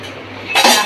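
Pots and pans clink in a home kitchen as tea is put on, a brief metallic clatter that starts halfway through after a quiet hum.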